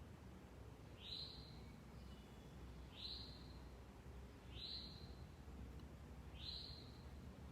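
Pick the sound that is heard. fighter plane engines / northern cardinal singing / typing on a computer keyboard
northern cardinal singing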